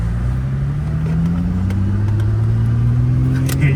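Infiniti G35 with a swapped engine accelerating, its loud engine note climbing steadily in pitch as it revs through a gear, heard close from inside the car with no talking.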